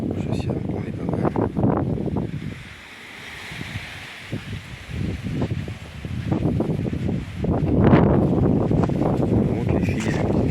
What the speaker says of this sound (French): il va y avoir un petit peu de vent